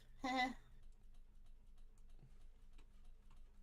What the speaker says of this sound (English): Oh no, I was typing.